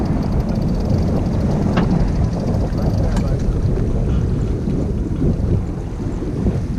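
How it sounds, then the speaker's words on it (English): Steady, loud wind buffets the microphone aboard a sailboat during an evening race at Nyack Boat Club, a continuous roaring rush with faint creaks and small ticks over it. "You got enough wraps on there because wind is picking up."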